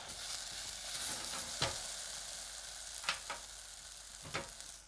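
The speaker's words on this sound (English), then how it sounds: "Stew it gently with a bit of brown sugar" Apple simmers gently with brown sugar in a pan, a soft, quiet bubbling sizzle broken by a few sharp clicks, likely from stirring.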